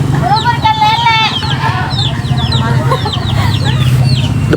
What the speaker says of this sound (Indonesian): Di atas rumah ada ayam,